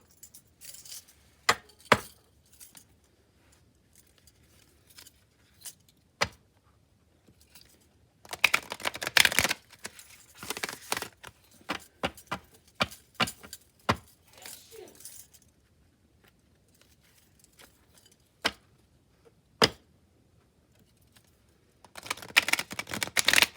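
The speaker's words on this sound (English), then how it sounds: "I'm going to go ahead and shuffle our thought of the day from the Healing the Mind and Spirit cards" Tarot cards from a Healing the Mind and Spirit deck shuffled on a table: sharp riffling bursts and scattered crisp taps and slaps, near and fairly quiet, with short busier runs between pauses.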